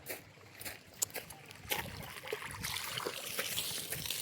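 Water supplied by a motor pump from a neighbouring house pours and splashes into a trough at a village temple, a continuous trickling and splattering that swells toward the end.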